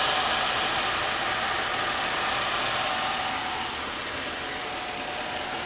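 The sequential fuel-injected V6 of a Pontiac Grand Prix idles steadily with a faint hum and fine mechanical hiss and no other sounds.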